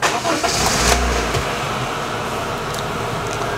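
A 2016 Honda Mobilio engine cranks and catches close by, settling into a steady idle with no talk over it.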